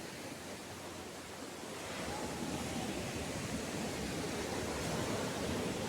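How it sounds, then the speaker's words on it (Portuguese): Waves break on the shore at Bombinhas in a broad, continuous roar of surf that swells louder partway through, with no voices over it. "deve estar um barulho de fundo aí de ondas quebrando"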